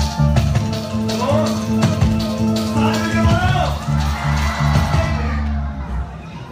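Studio audience clapping and cheering on the Pakistani game show Jeeto Pakistan: loud, continuous crowd noise with whoops and shouts, sustained over a steady low hum, then thinning out near the end.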